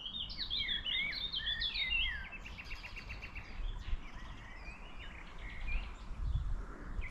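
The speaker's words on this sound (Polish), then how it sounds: "Cisza. Tylko ptaszki." Birds chirp and twitter in quick high bursts over a low outdoor rumble, a calm open-air scene with no talking.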